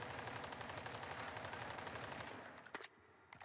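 Sustained automatic gunfire from a weapon in the shooter game Modern Warfare 3, a dense rapid burst lasting over two seconds, then a few trailing clicks and shots as the firing stops.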